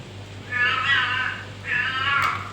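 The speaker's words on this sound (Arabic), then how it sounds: "دي القط بتاع ولادي يا حبايبي لازم يطلع كل فيديو كده" A pet cat meows twice in a kitchen, two drawn-out, fairly loud calls separated by a short pause, over a steady low hum with no talking.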